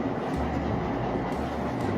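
A model train runs around a layout loop, its wheels rumbling steadily with soft clickety-clack over the track joints, close by and continuous, with no voices.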